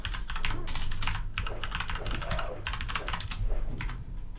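Keys clatter on a computer keyboard as a name command is entered at a Quake C game console, with quick bursts of close, crisp clicks separated by brief pauses and no talking.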